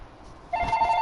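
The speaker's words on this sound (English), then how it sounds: "I apologize, the phone was ringing." A telephone starts ringing halfway through, a short electronic ring tone heard clearly but at modest level over quiet room noise.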